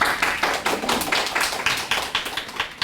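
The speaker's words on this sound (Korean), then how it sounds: "인사 말씀해 주신 센터장님께 다시 한번 큰 박수 부탁드립니다" Audience applause at a Korean social hackathon award ceremony after a center director's greeting; fairly sparse, rhythmic claps sound at moderate loudness, like a smaller crowd clapping in unison.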